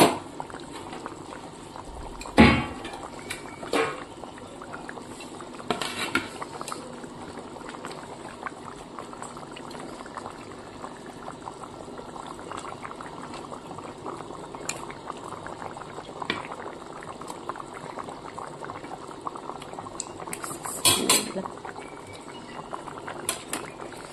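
Fish curry with added water boiling in a covered pot, a continuous soft bubbling and simmering heard close up, with a few sharper clinks and knocks scattered through it and no speech.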